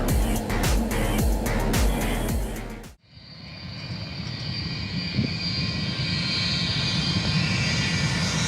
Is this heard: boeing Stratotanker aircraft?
yes